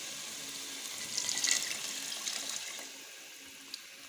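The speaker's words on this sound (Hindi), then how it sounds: "और अब हम इसमें 1 गिलास पानी का ऐड करेंगे" A glass of water poured into dal cooking in a pan, a short splashing gush and bubbling at close range, easing off into a quiet hiss.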